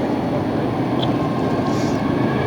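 A 33-year-old Boeing 767 jet rolls down the runway for takeoff at LAX, a loud, steady broadband roar with a deep rumble that holds constant throughout.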